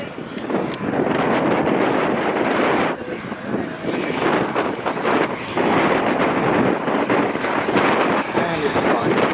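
Red Arrows jets land at the Scampton airshow, a loud, continuous roar of jet engines rushing past nearby, with a commentator's voice heard over a public address.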